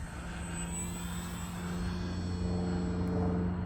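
A steady, droning full-scale airplane engine passes overhead at a model airfield, a constant low hum that swells slightly louder toward the end.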